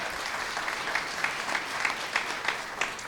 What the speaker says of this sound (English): I know y'all can clap for that